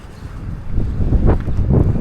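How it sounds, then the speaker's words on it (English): Wind gusts buffet the microphone outdoors on a cloudy day, a low rumbling roar that swells and eases in irregular bursts over a couple of seconds. "Windy and cloudy as fuck."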